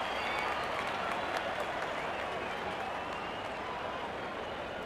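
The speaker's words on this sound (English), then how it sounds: "The crowd is enjoying every bit of this action." Crowd applause and cheering in the Real Cricket 24 video game during a Nepal vs UAE match, a steady dense roar of clapping that holds at an even level throughout with no break.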